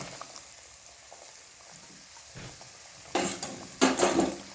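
Spoon stirring a mustard and poppy seed paste in a pan for Bengali shorshe ilish cooked on a gas stove, soft scraping that turns into louder clinking, wet stirring strokes near the end.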